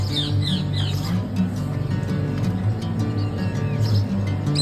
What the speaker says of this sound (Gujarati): જોઈ રહ્યા છો તમે કેટલા બધી પોપટ આવ્યા છે માંડવી ખાવા માટે